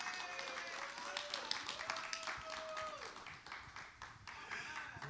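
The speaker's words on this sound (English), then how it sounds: "Y'all clapping like y'all owe me money" Church congregation clapping to welcome a pastor, a dense crowd applause sustained throughout with a voice rising over it.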